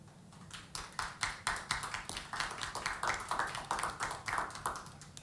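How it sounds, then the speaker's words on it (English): Steady applause from an audience at a police reform dialogue event, dense overlapping claps holding at an even level for several seconds with no voices on top. "Thank you for the applause."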